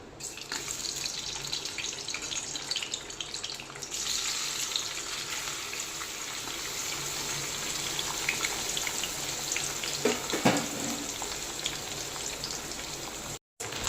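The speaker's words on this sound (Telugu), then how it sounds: "మన ఆయిల్ బాగా వేడైంది కదండి ఇంద ఇప్పుడు ఇందులో ఇందాక మనం కట్ చేసి పెట్టుకున్న మన ఎగ్ పీసెస్ వేసేద్దాము" Cut egg pieces dropped into well-heated oil for an egg pickle give a steady, dense sizzle and crackle that runs evenly throughout, fairly close and without any talking.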